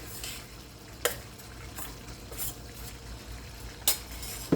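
A spoon stirring ground nut and melon-seed powder into a thick Gundar Paak sweet mixture in a pan, soft scraping with a low sizzle underneath and a few sharp clinks of utensil against metal.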